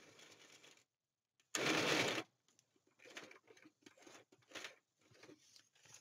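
Sewing machine stitching along the bottom edge of a junk journal page, a short dense burst of rapid mechanical chatter followed by scattered quieter taps and clicks, close and fairly faint.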